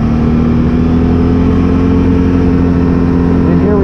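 Can-Am Outlander XMR 570 ATV ridden along an old abandoned road turned trail, its engine droning steadily and loudly throughout with a sustained hum and slight pitch shifts near the end, with voices faintly present.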